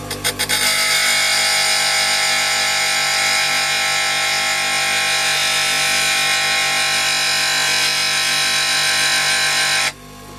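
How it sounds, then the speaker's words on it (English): Woodturning tool held against a spinning bench grinder, giving a loud, steady, high-pitched grinding whine with a rough metallic rasp, running continuously before the tool is lifted away near the end. "Holding the tool at an angle, bring it up to the grinder, nice and slow."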